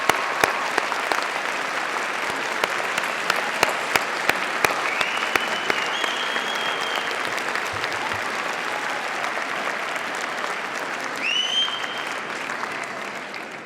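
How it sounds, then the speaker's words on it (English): Sustained applause from a graduation ceremony audience honouring family and friends at Birmingham City University, a dense steady clapping filling the hall throughout, with a brief whistle or cheer near the end. "please give them a warm round of applause"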